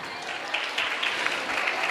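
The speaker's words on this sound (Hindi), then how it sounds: "एक बार जोरदार तालियों से स्वागत कीजिएगा।" Dense, steady applause from an audience at a stage program held by a women's service association, a continuous crackling wash lasting the whole moment with a few sharper claps standing out.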